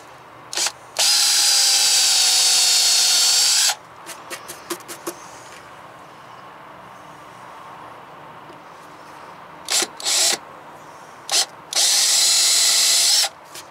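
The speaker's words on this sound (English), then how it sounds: "Then we'll just pre-drill those and get the door installed." Loud bursts of a power drill whirring as it pre-drills holes for door hinges in a van conversion, one long run near the start and another near the end, with short clicks and brief revs between.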